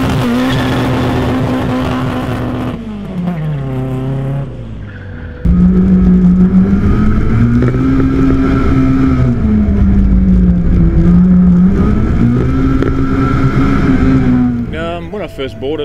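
A Suzuki Swift fitted with Vitara pistons revs hard and drives off, its engine note rising and falling in loud, sustained sweeps close by, with a brief lull before the throttle opens again.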